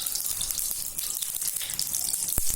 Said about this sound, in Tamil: தேவையான அளவுக்கு எண்ணெய் ஊற்றிக்கோங்க.